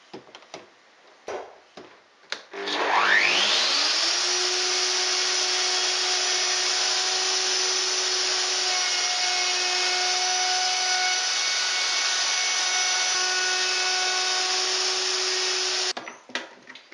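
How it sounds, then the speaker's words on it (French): A router with a straight bit and a copy ring roughs out a groove in wood. It spins up quickly and then holds a loud, steady, high whine for about thirteen seconds before cutting off, with no talking. "Dans un premier temps, je monte une fraise droite afin de dégrossir la rainure."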